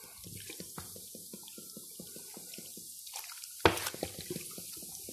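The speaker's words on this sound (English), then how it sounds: "Okay, in with the second bottle." Ginger beer pours from a bottle into a cooking pot for slow-cooked silverside corned beef, a steady liquid splash and glugging with a louder burst near the end.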